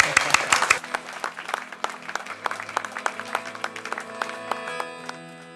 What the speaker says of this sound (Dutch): Graag jullie applaus voor de Handsome Poets.